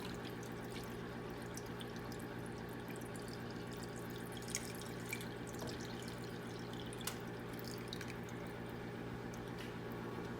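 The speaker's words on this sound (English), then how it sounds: "you're going to add to your pot 32 ounces of vegetable broth" Thirty-two ounces of vegetable broth pouring into a soup pot for butternut squash tomato soup, a soft, steady liquid wash lasting the whole stretch over a constant low hum, with no talking.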